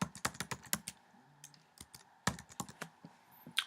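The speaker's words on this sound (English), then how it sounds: "Type in your password." Someone types a password on a computer keyboard, a close run of quick plastic key clacks in short uneven bursts with brief pauses between, and no talking.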